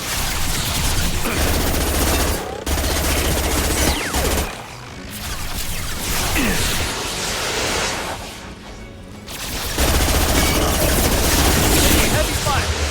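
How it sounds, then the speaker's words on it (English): Sustained heavy gunfire in Mass Effect 2, a dense loud fusillade of rapid weapon fire with brief pauses, and voices from the game talk over the shooting. "Heavy fire!"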